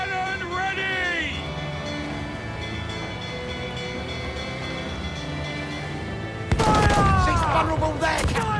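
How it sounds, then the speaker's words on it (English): Ship cannon fire in Assassin's Creed IV Black Flag: a single loud, booming volley erupts late, over steady battle ambience and music with game voices calling out around it. "Cannon ready!"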